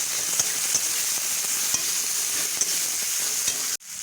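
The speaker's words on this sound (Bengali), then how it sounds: "এটা আবার ভালো করে ভাজবো।" Chopped onions and cumin fry in oil left over from frying small mourola fish, a close, even sizzle with regular light clicks and scrapes of stirring, ending in a sudden cut.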